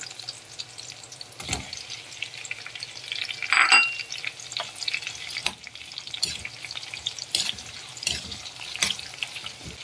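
Garlic, onions and tomato sautéing in a pan for dried fish escabeche give a soft, steady sizzle with occasional stirring scrapes and one louder clatter partway through.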